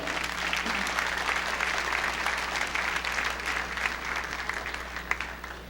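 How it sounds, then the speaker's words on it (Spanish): Church congregation applauding during a sermon, a dense continuous wash of clapping from a crowd, even and sustained over a low hum. "dale un aplauso al Señor"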